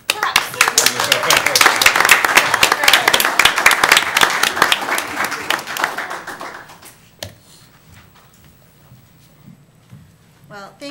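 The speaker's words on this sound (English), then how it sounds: "Give us a clap." Dense applause from a city council meeting audience after a Library Card Sign-Up Month proclamation, loud and steady for about six seconds, then thinning to a few scattered claps and quiet room tone.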